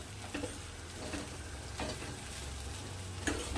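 Kabuli chickpea usal sizzling in a pan while being stirred, a steady frying hiss broken by a few soft scraping strokes of the spoon, close and quiet with no talk.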